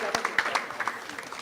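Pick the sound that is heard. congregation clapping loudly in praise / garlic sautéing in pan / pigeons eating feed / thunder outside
congregation clapping loudly in praise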